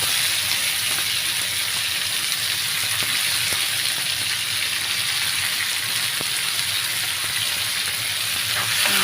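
Tomatoes go into hot oil for a radish chutney and fry with a loud, steady hissing sizzle that fills the whole stretch evenly, close by and without any talking.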